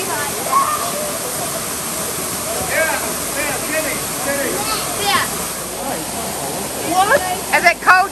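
Washpen Falls pours in a steady, broad rush of falling water, while people talk and exclaim over it near the end.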